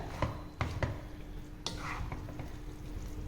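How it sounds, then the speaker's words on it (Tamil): Pad Thai noodles and vegetables are tossed in a pan with two ladles, giving a few sharp metallic clinks and scrapes over a soft, steady sizzle, close by with no talking. "இப்போ இது மாதிரி ரெண்டு கரண்டி வச்சு மிக்ஸ் பண்ணுங்கள்"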